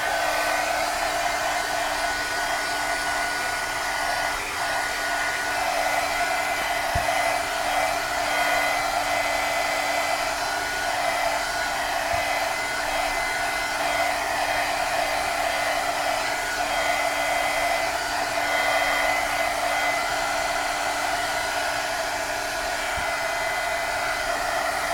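Hair dryer blowing steadily to dry glue on a bottle, a loud, constant close-up whoosh with a faint tonal hum, running unbroken for the whole stretch without speech.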